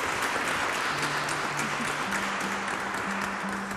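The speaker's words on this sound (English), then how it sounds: "two weeks of marriage, and you get a round of applause" Church congregation applauding at a Sunday service, a steady wash of clapping held for several seconds at moderate distance, with a faint sustained tone underneath.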